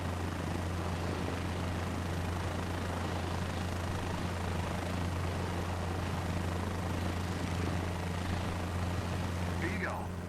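A helicopter in a flight simulator game hums steadily as the rotor and engine spool up toward takeoff, a loud droning whine that holds without a break, with a voice speaking over it.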